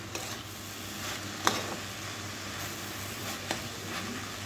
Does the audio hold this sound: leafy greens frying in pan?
yes